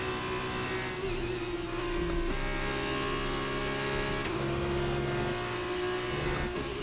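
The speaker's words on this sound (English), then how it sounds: "I locked the rears." Sustained engine drone and tyre noise from an F1 23 video game car as the rear wheels lock under braking, a steady mid-pitched whine with a harmonic shift partway through, loud and continuous with no talk.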